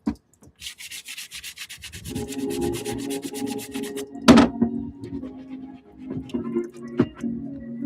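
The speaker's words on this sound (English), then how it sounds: "Let me scrape these back tabs and see if I can get some of those imperfections I saw out earlier." A tool scrapes the back tabs of a pair of sneakers to remove imperfections, giving a steady, close rubbing rasp, followed by a sharp knock and a few scattered scuffs.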